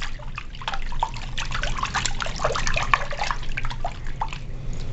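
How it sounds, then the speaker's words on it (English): A hand swishes laundry detergent through a basin of cold water, producing a steady run of soft sloshing and trickling splashes, close and continuous with no voices. "And with my hand, I'm just going to mix that up and dissolve the detergent."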